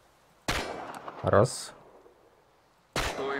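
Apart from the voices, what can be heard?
gunshots at targets in video game Chernobylite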